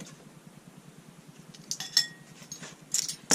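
Metal tablespoon scooping baking powder from a container for homemade aluminum-free deodorant, a few light clinks and scrapes near the end over a low hum, faint and close.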